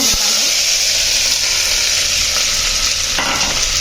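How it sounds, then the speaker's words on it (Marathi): Three medium onions, sliced lengthwise, frying in hot oil over a medium flame for prawn biryani: a loud, dense, unbroken sizzle with a few faint stirring knocks, and no voices. "आणि आपल्याला हे मीडियम फ्लेमवरतीच हा कांदा आपल्याला फ्राय करायचा आहे"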